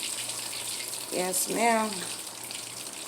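A kitchen tap runs with a steady, soft hiss throughout while someone speaks briefly over it.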